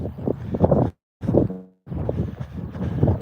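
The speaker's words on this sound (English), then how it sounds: "Nice wind up here." Wind gusting across a hilltop during a trail-running training outing buffets the microphone in rough, blustery waves, dropping briefly to near silence before picking up again.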